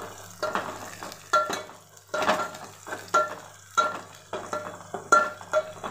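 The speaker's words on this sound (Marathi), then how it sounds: "छान परतून घेते मी आता याला।" Green chillies sautéed in a pan, with repeated scraping stirs at roughly even intervals over a light sizzle, close up and without talk.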